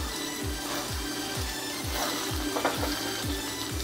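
Fried potatoes are stirred into a spicy paneer butter masala with capsicum, giving steady sizzling under a quick, regular knock of the spatula against the pan. No one speaks.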